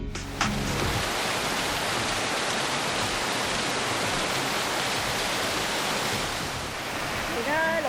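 Wang Chung Stream's waterfall in full, high-water flow makes a loud, continuous broadband roar close by, with brief voices near the start and end.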